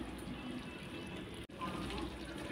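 Warm water pours steadily into a half-cooked handi chicken curry in a clay pot, a continuous close gushing with a brief break midway.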